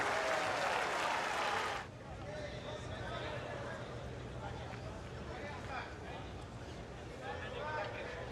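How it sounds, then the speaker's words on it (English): Crowd applause at a US Open tennis match, 2021 third round, Karatsev vs Brooksby: a loud burst of broadband clapping for about two seconds, then dropping to a murmuring stadium crowd with scattered claps and voices. "Just listen to the crowd"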